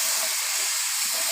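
Dal poured into hot oil tempered with panch phoron gives a steady, loud, bright sizzling hiss that holds evenly without a break.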